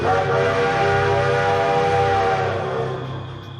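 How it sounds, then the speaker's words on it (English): Cartoon train pulling into a railway station, a long sustained multi-tone whistle blaring over rumbling wheels, loud and near before slowly fading toward the end. "Sir, will this train stop at our Dholakpur station?"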